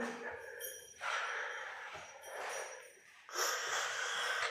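Heavy, congested breathing right against the microphone from a person with a blocked nose, in three long, loud, rasping breaths separated by short pauses.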